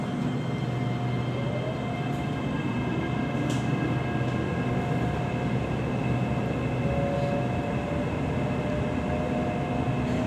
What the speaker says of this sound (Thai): ตอนนี้ก็มีขบวนรถสายลังสิตอีกขบวนหนึ่งเข้าสู่ชันชลานะฮะ